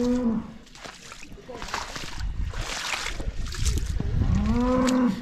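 Cows moo with low drawn-out calls at the start and end, over a steady outdoor background with some splashing and faint talk in between.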